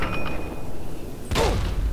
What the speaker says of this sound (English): Holy crap, he launched a missile at me.